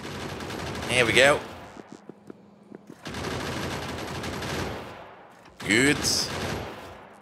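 Spaceship guns firing in Factorio with Space Exploration, Krastorio and AAI Vehicles mods, a steady faint rattle of rapid shots running through the clip between brief bursts of a man's speech.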